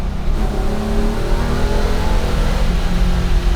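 A 1974 Porsche 911 engine pulls hard from about 4,000 to 5,500 RPM, a loud, close, continuous rising rasp under acceleration with no voices over it.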